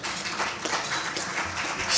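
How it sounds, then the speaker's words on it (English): Audience applause greets new members at a business forum, a steady wash of many hands clapping with a few louder claps standing out, moderately distant and continuous. "Give them a round of applause."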